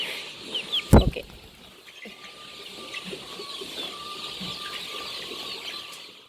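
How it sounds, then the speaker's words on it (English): One-month-old poultry chicks on a farm in Ghana, a busy flock chirping steadily in the background, with a brief close thump and flutter near the start and no talk. "Sorry about the chirping sound, the chicks making noise."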